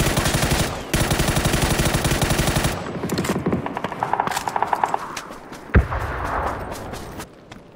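Automatic gunfire in a video game shooter, a long sustained machine-gun burst that breaks off and resumes, followed by scattered shots and one sharp loud bang near the end.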